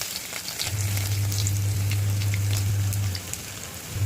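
Chopped garlic sizzles and crackles in hot oil in a pan, a close and steady frying hiss. A low hum runs underneath, and there is no talk.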